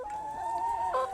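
Backyard chickens give one steady, close, drawn-out cluck or call lasting about a second, alone with no talking.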